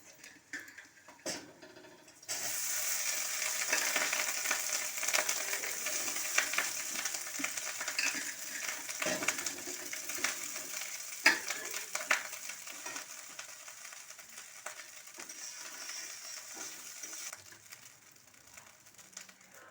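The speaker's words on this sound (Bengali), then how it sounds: "কড়াই আরো তেল দিয়ে দিচ্ছি ভাতটা ভাজা করার জন্য" Rice and red-fried peanuts sizzle in oil in a wok, a steady loud frying hiss with stirring scrapes lasting most of the clip after a brief quieter start.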